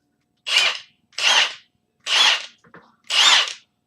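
Milwaukee M18 Fuel cordless impact wrench running in four short, loud bursts of roughly half a second each, with brief pauses between them, close and with no other sound.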